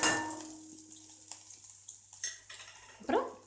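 Grated ginger goes into a tempering of dried red chillies, curry leaves and asafoetida, bringing a soft frying sizzle, scattered stirring scrapes and a louder clatter near the end.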